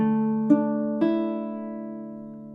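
Baritone ukulele with bass accompaniment, two clear plucked notes half a second apart ringing out into a sustained, slowly fading chord, alone and close.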